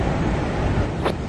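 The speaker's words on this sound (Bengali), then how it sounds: "পৃথিবীর এক অপর বিস্ময় নায়াগ্রা জলপ্রপাত" Niagara Falls, the world's largest waterfall by flow, on the New York–Ontario border, gives a steady broadband roar of falling water that fills the short stretch evenly, with a brief higher hiss near the end and no voices.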